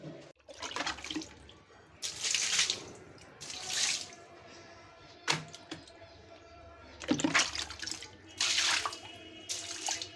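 Water splashes and sloshes in repeated bursts across a balcony floor as it is washed, with swishing pauses between pours, fairly near and moderately loud.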